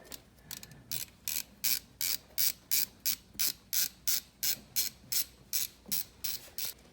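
Ratcheting with a T30 star bit on the filter cover bolts of a flooded 2020 Can-Am XMR 850, a steady run of about eighteen quiet, evenly spaced clicks heard close and alone.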